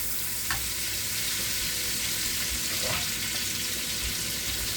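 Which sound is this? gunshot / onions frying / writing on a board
onions frying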